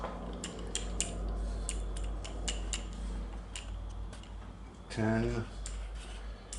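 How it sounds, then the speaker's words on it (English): Torque wrench ratcheting and clicking while an oil filter is tightened to 12 foot-pounds on a 2001 Yamaha Kodiak ATV, giving soft repeated ticks and a brief louder click burst near the end, with a voice counting over it. "So adjust your torque wrench to 12 foot-pounds."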